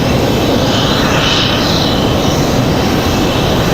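Airplane taking off from runway 5 left at Raleigh-Durham airport, a steady loud broadband engine roar filling the whole stretch with a faint rising whine partway through, no voices.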